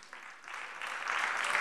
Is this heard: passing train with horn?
no